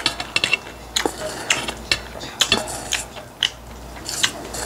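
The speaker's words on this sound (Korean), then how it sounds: "오이가 아삭 아삭 와 싱싱해" Fresh cucumber is bitten and chewed close to the mic, giving a quick series of sharp, wet crunches in an uneven rhythm with short pauses between them. No one speaks.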